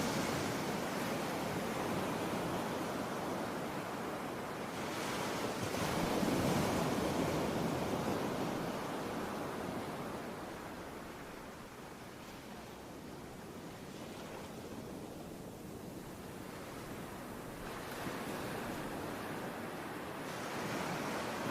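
Ocean surf breaks along the coast near Faro Belén in Argentina, a steady hiss of waves that swells and fades in slow surges, mixed with soft wind noise and no voices.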